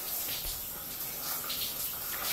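Cold shower water pouring steadily, a continuous broadband hiss and splash with no pauses, close and moderately loud.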